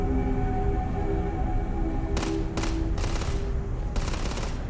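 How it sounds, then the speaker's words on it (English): Gunfire in the Starfield video game comes in several rapid bursts of automatic shots over a steady low background hum, fairly loud and close, with no talking. "Somebody's already shooting."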